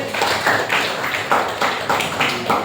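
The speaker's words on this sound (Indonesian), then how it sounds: "Tepuk tangan untuk Zafir." Classroom group applause for Zafir, several hands clapping in quick rhythmic bursts that rise and fall, fairly close and lively, a brief round of roughly a dozen claps.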